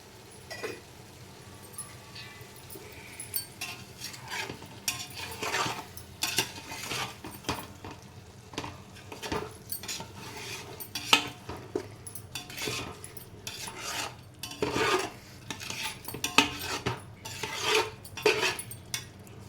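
A spoon gently folds boiled eggs through egg dum biryani in a cooking pot, giving soft scraping and intermittent metallic clinks against the pot's sides, steady and close throughout with no talking.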